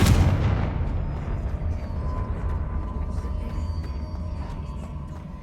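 Confringo spell explosion in the video game Hogwarts Legacy, a single loud booming blast at the start that rolls into a long, heavy rumbling decay, with no talk.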